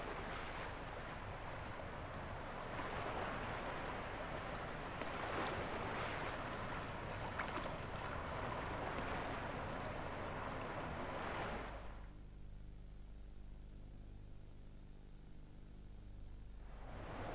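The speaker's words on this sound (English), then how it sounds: "Here, the waves at high tide are breaking over the berm into the lagoon beyond." Waves at high tide breaking over a beach berm into a lagoon at Spurn Head, a broad continuous roar of surf mixed with wind buffeting, shifting to a lower, rumbling wash near the end.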